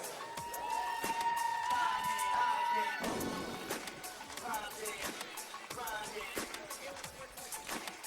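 A loud crowd at a Super Smash Bros. Ultimate tournament cheers and claps for several seconds for the third-place team, whoops rising over dense applause, with voices mixed in throughout.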